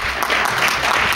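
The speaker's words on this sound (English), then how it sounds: "please join me in giving a rounding applause for our wonderful panel" Conference audience applauds a roundtable panel, a brief, fairly loud burst of many hands clapping together, with no talking over it.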